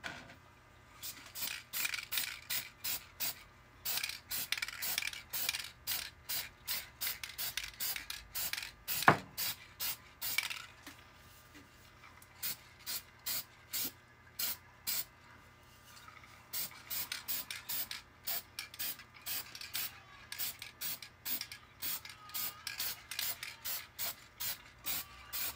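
Short hissing bursts of spray paint lay a black base coat onto a hockey mask, fired in a quick, steady rhythm of many brief pulses with a pause partway through, fairly quiet and close with no talking.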